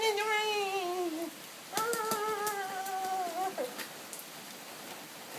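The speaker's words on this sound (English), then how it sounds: "It's raining out" Steady rain falls outside as a soft, constant hiss. Loud, drawn-out whining animal cries and a few sharp taps rise and fall over it.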